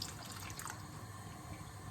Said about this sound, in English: What I'm going to do is I'm going to go in with a bit of water here.